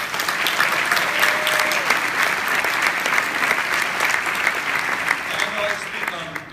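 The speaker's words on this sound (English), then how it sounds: "So let's hear a round of applause." Sustained round of applause from an audience at a hero dog of the year award ceremony, dense steady clapping filling the room for about six seconds, with faint voices mixed in.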